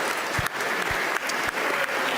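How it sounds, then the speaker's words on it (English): Dense audience applause at a chess festival in Las Vegas, steady and full from start to finish, with a few brief thumps and whoops rising out of the crowd. "Please give him a round of applause."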